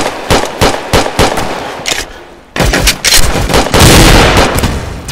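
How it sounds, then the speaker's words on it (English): Rapid gunfire in the Roblox video game, a loud string of sharp shots in bursts, then a brief lull before a denser, sustained volley of overlapping shots. "I was shooting him."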